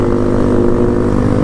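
Honda Titan 150 motorcycle riding on a highway, a loud steady engine drone with constant rumble throughout the short stretch, no talk.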